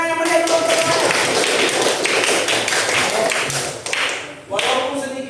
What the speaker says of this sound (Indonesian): tepuk tangan yang meriah dulu untuk semuanya